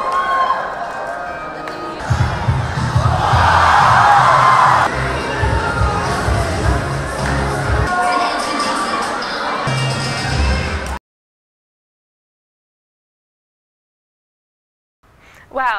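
Loud crowd cheering at a rally after a K-pop dance performance, with whoops and shouting from many people, some of them children, sustained for about eleven seconds before cutting to silence, then a brief burst of sound.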